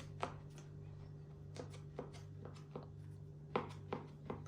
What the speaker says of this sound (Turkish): Şimdi şöyle kare şekilde kesiyor.